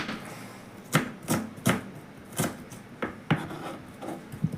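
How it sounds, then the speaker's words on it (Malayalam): Onions being chopped small on a board with a knife for samosa filling, sharp distinct chops in an uneven rhythm, close and fairly loud, with no talking. "നമ്മൾ ഉള്ളിയൊക്കെ നന്നാക്കി ചെറുതാക്കി വെട്ടട്ടെ"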